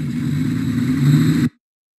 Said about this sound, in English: Nice auto rickshaw.